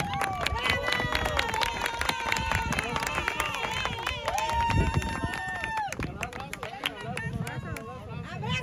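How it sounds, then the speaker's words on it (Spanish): Applause and crowd cheering welcome a new team member at a Chivas trophy ceremony, claps and voices mixing into a lively hubbub alongside speech throughout. "un aplauso."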